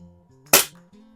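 A Crosman air rifle firing a Crosman Premier hollow point pellet into a splatter burst target, one sharp close crack standing out against a quiet hum of background tones.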